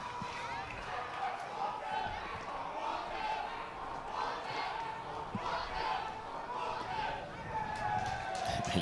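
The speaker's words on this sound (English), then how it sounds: "You hear the chants from the crowd." Crowd chanting at a late-inning Virginia vs Miami college baseball game, a steady wash of many voices carrying rhythmic chants across the stadium, moderately distant and continuous, with a commentator talking over it.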